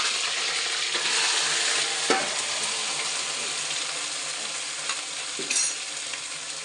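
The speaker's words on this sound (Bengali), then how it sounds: "এই দেখো তেলের মধ্যে ফুলকপিগুলো ভেজে নেব" Cauliflower pieces frying in hot oil give a continuous bright sizzle up close, broken by a few sharp clinks and scrapes of stirring, with no voices.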